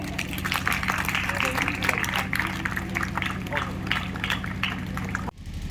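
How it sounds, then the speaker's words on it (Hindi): Sustained applause from an audience at an Arya Samaj annual three-day gathering in Kharar, a steady dense patter of claps under a low hum, cutting off sharply near the end. "तालियां बजती रहनी चाहिए।"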